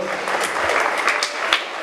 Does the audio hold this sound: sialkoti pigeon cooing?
no